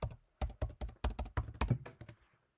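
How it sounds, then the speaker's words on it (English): System password typed on a computer keyboard during a Mac M1 software installation, a quick uneven burst of soft key taps and clacks, close and fairly quiet with no talk. "Enter your system password"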